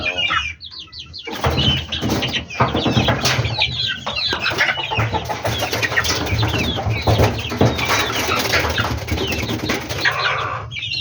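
Chickens cluck and squawk steadily inside a coop after feeding, with occasional wing flapping and layered bird calls close by, busy and continuous throughout.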